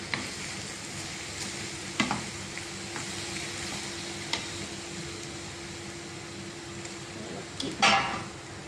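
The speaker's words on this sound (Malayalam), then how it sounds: "ഇതിൻ്റെ കൂടെ കുറച്ച് ഉപ്പ്, നന്നായിട്ടൊന്ന് ഇളക്കാം." A bean and papaya stir-fry with salt sizzles in a pan while being stirred, a steady frying hiss under occasional spatula scrapes and a louder stir near the end, close by.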